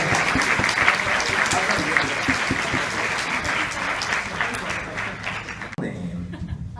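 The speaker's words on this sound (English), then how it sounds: "Give him a round of applause." Hearty audience applause at a Comic-Con 2018 voice-over panel in San Diego, a thick, continuous roar of clapping hands lasting several seconds before cutting off abruptly, with scattered voices and a bit of laughter underneath.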